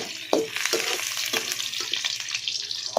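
Onions sizzle and crackle in a hot pan over a wood fire, with a few louder pops and stirring scrapes; no talking.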